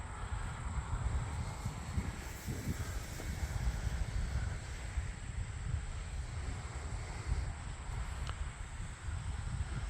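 Small Eflite Cirrus SR22T radio-controlled model airplane in flight outdoors, its electric motor giving a steady distant whine under continuous wind noise across the whole stretch.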